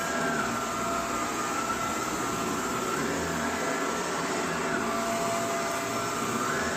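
A Shark vacuum cleaner roars steadily and close by, its motor whine constant, with faint rattling and crackling as it sucks up debris from a carpet.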